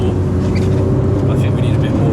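A Nissan Skyline R34 GTR with a modified turbo runs at a steady, loud rumble close by, its engine droning under a person talking.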